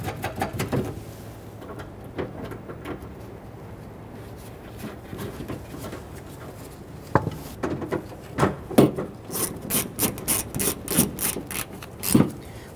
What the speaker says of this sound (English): Once we get all the nuts installed, we'll go ahead and snug them down.